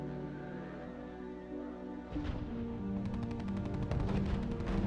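Artillery and gunfire in the World War II strategy game RUSE, a steady rumble that erupts into a dense burst of rapid shots and blasts partway through, loud and continuous.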